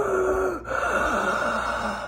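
A voice imitates a person's very heavy breathing during an ayahuasca ceremony in Costa Rica: one loud, drawn-out gasping breath followed by a rougher, fading exhale, close and alone.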